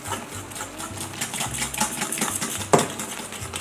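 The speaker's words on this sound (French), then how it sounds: "On va ajouter une première partie des œufs en neige à la préparation. Et on va remuer vite." Whipped egg whites being stirred quickly into a batter in a bowl, with a rapid rhythmic scraping and tapping of a utensil against the bowl and one sharper clink near the end.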